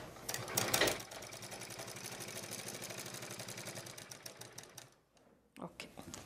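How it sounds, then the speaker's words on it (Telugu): A sewing machine stitching elastic around the edge of cloth for a dhoti pant, ghagra or lehenga waistband, running as a steady rapid mechanical rattle that pauses briefly near the end before restarting. "ఇలా మొత్తం ఎలాస్టిక్ని చుట్టూ కుట్టేసుకోవాలి."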